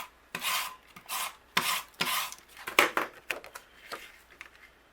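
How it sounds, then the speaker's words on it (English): Tape runner rolling adhesive across a card panel for a stamped greeting card, giving a series of short close scraping rasps in quick strokes, with no talking. "I'm just going to use my tape runner for this."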